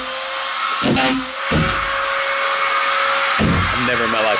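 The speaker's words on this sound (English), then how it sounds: "He's just hitting it with a drill, leaving it on full blast, and just throwing those screws in the wall" A power drill runs at full speed driving screws into a wall inside a building under renovation, giving a loud, sustained whine broken by short gaps and bursts as each screw goes in.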